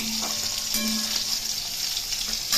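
Pieces of hilsa fish frying in oil in a pan, a continuous bright sizzle close up with a faint low hum and a few light knocks of the utensil.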